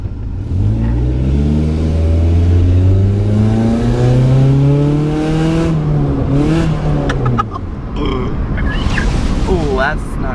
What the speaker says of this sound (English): Sorry, my car's slow.